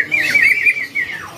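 A green leafbird chirps at a bird market stall, giving a bright, warbling call that rises and falls for just over a second, close and fairly loud.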